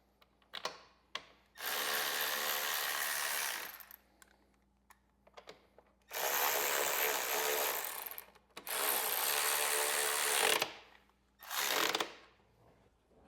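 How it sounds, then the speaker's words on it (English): A power tool running bolts back into a panel on a 2014-2023 Harley-Davidson during a 6x9-inch speaker install, with four loud, sustained whirring bursts separated by quiet pauses and light clinks. "we're going to put these bolts back in place."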